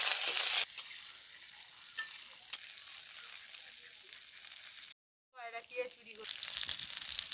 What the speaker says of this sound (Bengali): এবার ভেজে রাখা ভেন্ডিগুলো মশলার মধ্যে দিয়ে দেব।